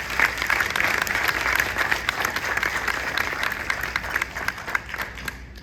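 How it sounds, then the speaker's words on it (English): Banquet audience gives a round of applause to honor staff, many hands clapping densely and loudly before gradually thinning toward the end. "Let's give Lisa and her staff a round of applause"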